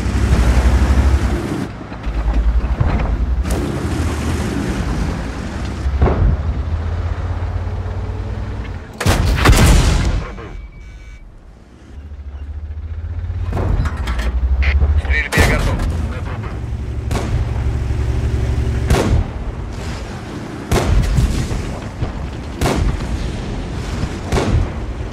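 The cannon of a VK 30.02 (M) tank fires in a tank video game: repeated loud, close booms and sharp blasts over a steady rumbling engine and battle noise, with a brief lull in the middle.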